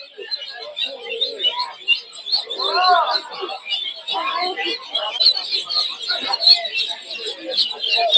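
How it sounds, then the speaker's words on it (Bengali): Many local ducklings chirp and peep in a dense, overlapping chorus close by at a poultry market, with occasional fainter voices in the background. "এই জায়গায় প্রচুর হাঁসের বাচ্চা আছে এগুলো সব হচ্ছে দেশি হাঁসের বাচ্চা"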